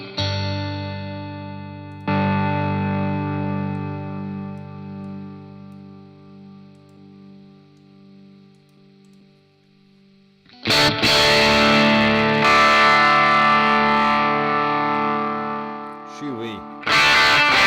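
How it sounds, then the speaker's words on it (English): Electric guitar played through a Sonicake Matribox II multi-effects unit with overdrive fully up: thick, distorted sustained chords ring out and decay, then a louder, heavier burst of crunchy strumming follows. "Let's go to our overdrive, and I want the full OD."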